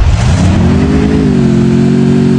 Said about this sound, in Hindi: तीन तक गिनी है बाइक चला दूंगा मैं